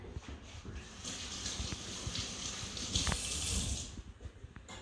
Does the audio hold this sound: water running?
yes